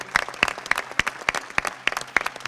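Clapping at a 70th-anniversary celebration of a blood donor association, sharp, evenly spaced claps about three per second, close and distinct rather than a full crowd roar.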